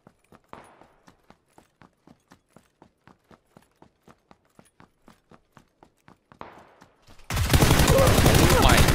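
Gunfire in a shooter video game: a long run of evenly spaced single shots, sharp and fairly faint, then a closer burst before a sudden loud, dense blast of noise at the end.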